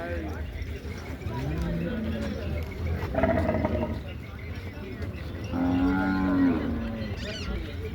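Several cows moo in long, low calls at a cattle market, one close and loud near the middle, over a busy background of crowd chatter and livestock noise.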